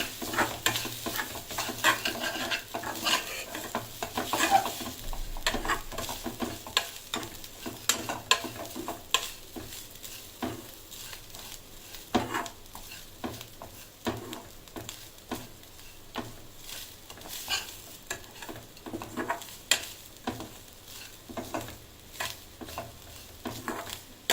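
Grated coconut frying and being stirred in a pan while making Salem-style chicken curry, with steady soft sizzling and repeated scraping stir strokes, close up and moderately quiet, with no voices.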